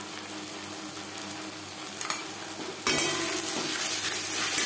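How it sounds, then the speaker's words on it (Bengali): Onions frying in a pan as ginger and green chili paste are stirred in, a steady sizzle with a few utensil scrapes and a louder, brighter hiss surging partway through. "আদা ও কাঁচা লঙ্কা বাটা বেশ ভালো করে মিক্স করে দেব"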